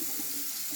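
Tap water runs steadily into a kitchen sink in a house under construction, a continuous close splashing flow with no talk over it.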